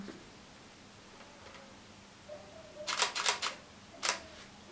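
Camera shutter firing while photographing a soap bubble: a quick burst of three or four crisp clicks near the middle, then one more isolated click a moment later, close and clear over a quiet room.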